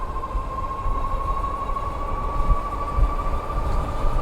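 Engwe L20 3.0 folding e-bike at full throttle into a strong headwind, a steady motor whine riding over loud, continuous wind rumble with occasional low thumps.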